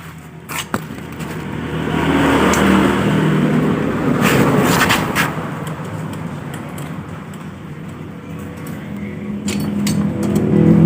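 A Honda Scoopy scooter runs steadily after work on its formerly noisy CVT gear ratio, giving a close, even engine drone with a slight swell partway through and no voices.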